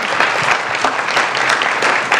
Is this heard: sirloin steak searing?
no